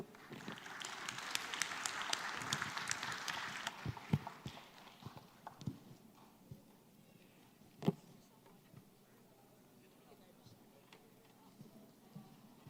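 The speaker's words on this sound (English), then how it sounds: "Once again, let's give them a round of applause" A conference audience at a plenary session of the Manila Dialogue on the South China Sea applauds a panel. Thick clapping for about four seconds thins into scattered single claps and shuffling amid quiet room noise.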